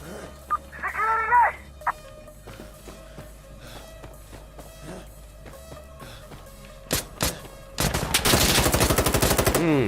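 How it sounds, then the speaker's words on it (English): Gunfire in the video game Insurgency Sandstorm: scattered single shots early on, then a dense, loud burst of rapid automatic fire near the end, with faint game sounds in between. "you go there, you shoot them, and you just take them out"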